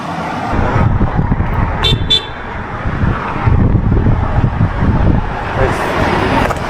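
Cars roll past on a rural road in a poor region of China, a steady engine and tyre rumble rising and fading as vehicles go by, with a brief horn toot and some wind.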